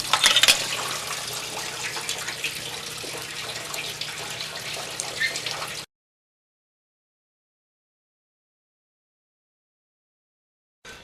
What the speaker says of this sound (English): We're going to just take it out and drain what water, if any, is in the block out